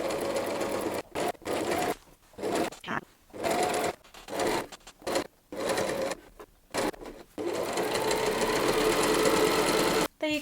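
Home sewing machine stitching a t-shirt in short stop-start bursts, then a longer continuous run, its fast mechanical whir close and loud with brief silences between stitches.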